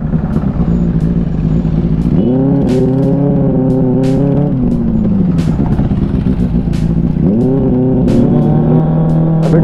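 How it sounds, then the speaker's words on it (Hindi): Steady car engine hum with revving as vehicles pass close by, a continuous loud rumble of busy road traffic heard while riding a motorcycle, with no talking. "इधर ट्रैफिक है थोड़ा,"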